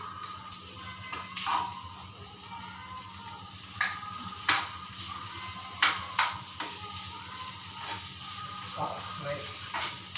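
Sago pearls for sabudana khichdi tip into a hot pan and sizzle steadily, with scattered scrapes and clinks of stirring over the constant frying hiss, heard up close.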